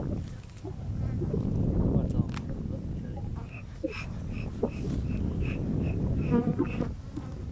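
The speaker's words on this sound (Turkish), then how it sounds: "İçinde arkadaşlar erkek çok ama yine de arı da var." Honeybees and drones buzz around an open beehive, a steady close hum with brief louder passes near the ear, while a person talks over it at times.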